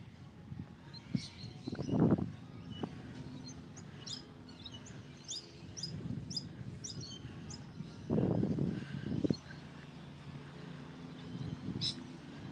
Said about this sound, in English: we can hear lots of rainbow lorikeets